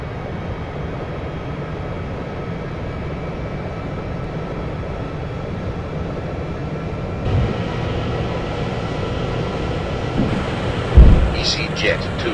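EasyJet airliner taking off from runway 09 at Heraklion Nikos Kazantzakis airport, a loud continuous engine roar that builds in the second half, with a brief thump near the end.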